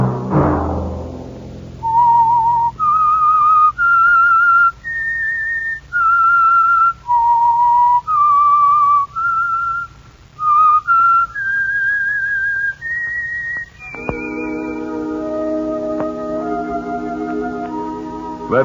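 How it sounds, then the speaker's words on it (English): A melodic whistled signal tune from the 1950 Signal Oil radio mystery program The Whistler, a clear solo whistle of sustained rising and falling notes, close and prominent, giving way to soft orchestral music near the end. "Let that whistle be your signal for the Signal Oil program, The Whistler"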